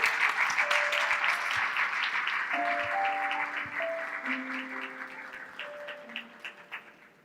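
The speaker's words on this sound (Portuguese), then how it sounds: "Isabel, salva de palmas para a esposa." An audience applauds at a Portuguese-language speaking event, full steady clapping that gradually fades over about seven seconds, with sustained tonal music notes underneath.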